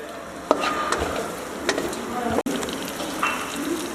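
Smoked mutton tikka boti being mixed in a pan on the stove, giving a close steady frying hiss with a few scraping stirs and one brief clatter, and no talking.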